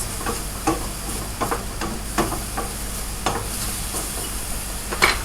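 Vegetable rice chow with mushrooms and capers sizzles in a pan while a spoon stirs it in a series of sharp scraping, clinking strokes over a steady hiss, close up and without speech.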